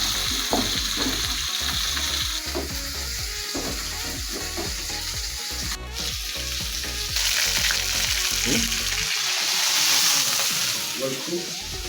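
Potatoes for homemade fries frying in hot oil: a steady, close sizzle with crackling bubbles and occasional stirring knocks, continuous for the whole stretch.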